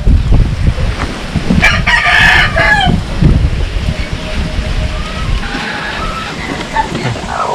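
A rooster crows loudly over a steady farmyard background while hens cluck nearby, with people talking throughout in a rural outdoor setting where a hut is being built.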